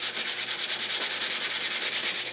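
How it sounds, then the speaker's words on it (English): Sanding Zpoxy epoxy pore fill off a guitar peg head back to bare wood: quick, even back-and-forth rasping strokes, about eight per second, close and steady, with no talking. "So keep sanding to get all of that off"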